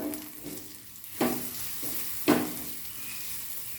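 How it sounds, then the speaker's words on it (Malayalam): Asafoetida frying in oil in a pan, a steady soft sizzle with two brief louder clinks or stirs, close and quiet, with no talk. "1/4 ടീസ്പൂൺ കായം കൂടെ ഇട്ടൊന്ന് മൂക്കട്ടെ."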